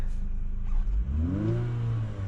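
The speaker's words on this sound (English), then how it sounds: "Give you a little exhaust note here." A 2024 Infiniti QX50 revs briefly from idle, its exhaust note rising in pitch then easing back, heard close and clear without talk.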